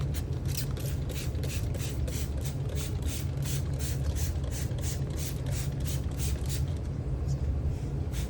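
A spray bottle mists water onto dirt while an emersed Amazon sword is being set up, sounding as a quick run of regular hissing squirts, about a dozen in a steady rhythm, over a constant low rumble.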